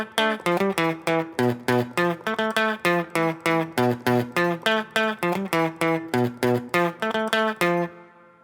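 Distorted electric guitar plays the riff from a song, a steady run of punchy, evenly spaced picked notes repeating throughout, loud and close with no voice over it.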